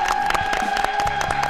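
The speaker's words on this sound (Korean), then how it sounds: "여러분 큰 박수 보내주십시오" A television studio audience claps and cheers together, a dense burst of applause with a steady tone running underneath.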